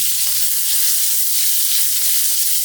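Cumin seeds, coriander seeds, dry red chilli, green chillies and onions stir frying in a hot pan for karahi paneer, giving a steady loud sizzle with no voices.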